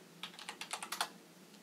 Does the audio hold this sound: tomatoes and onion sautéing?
no